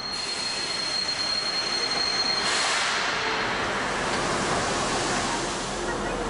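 Steam locomotive 01 118 rolls into Leipzig Hauptbahnhof, a steady rumble of wheels and carriages with a rising metallic squeal and a thin tonal whine early on. Fairly faint and continuous, with no talking.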